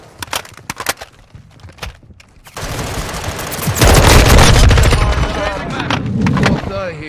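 Video game gunfire in a team deathmatch on Himmelmatt Expo: scattered single shots first, then a loud sustained burst of automatic fire and blasts close by, with brief voice callouts mixed in.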